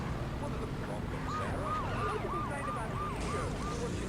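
Police car siren in the London Racer II video game, a wailing siren sweeping up and down repeatedly at moderate distance, over a continuous rumble of engine and game noise.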